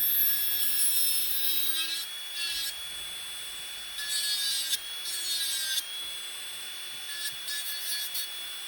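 Rapid rasping strokes of a nail file on hard acrylic gel on a fingernail, coming in bursts with short pauses between, close and fairly loud.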